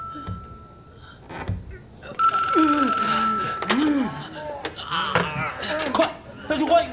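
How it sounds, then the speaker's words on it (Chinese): An old telephone ringing from inside a bank warehouse wall during wartime fighting, a steady electric bell rising partway through with tense voices talking over it. "团长，这墙里好像有个电话"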